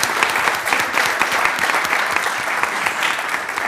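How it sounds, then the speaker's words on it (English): Audience members clap at a city council regular meeting, a lively, continuous burst of hand claps with crisp individual slaps, close and fairly loud throughout. "I know, somebody started clapping."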